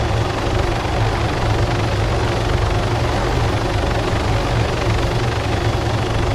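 Helicopter in a military video game, a loud, continuous rotor thump and engine roar held at close range throughout, steady with no pauses.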